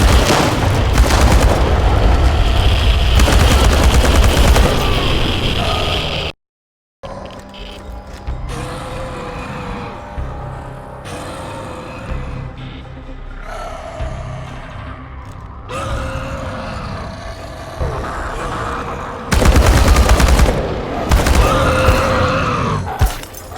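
Heavy booming gunfire and explosions in the video game Chernobylite rumble loudly through dense combat noise, broken by a brief silent gap, with bursts returning and intensifying toward the end.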